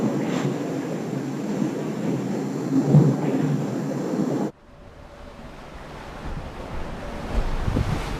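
Wind and ocean surf rush past a racing yacht sailing the Indian Ocean in the Vendée Globe, a loud steady roar that cuts abruptly to a quieter, hollow wash of water and wind partway through.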